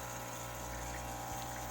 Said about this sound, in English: I'm going to turn it on. Should see some water come out.